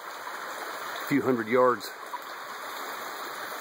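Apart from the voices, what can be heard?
mountain creek stream flowing downstream from a waterfall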